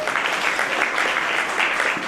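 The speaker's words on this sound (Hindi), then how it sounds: "पहला शक्ति के लिए एक बार जोरदार तालियां बजा दें।" A crowd at a national Arya youth council foundation day event gives loud, continuous applause, a steady wash of many hands clapping together.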